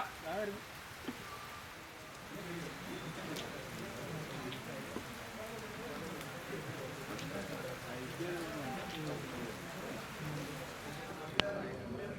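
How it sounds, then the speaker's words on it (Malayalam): Steady rain falls outdoors during a film pooja ceremony, a soft constant patter with faint scattered drops and distant murmuring voices underneath. "മഴ"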